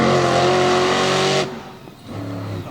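A Chevrolet Silverado monster truck engine roars loud and close at full throttle during a race run, then drops off abruptly as the driver backs out, idling lower with a steady rumble.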